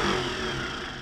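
A 74-year-old vintage tractor, left in a barn for 20 years, gives a brief close engine pop and rumble on its first start attempt, lasting about a second.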